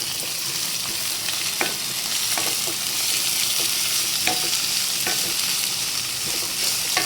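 Onions frying with ginger and garlic in a pan for a simple egg curry, a constant dense sizzle with occasional soft stirring scrapes, close and steady without talk.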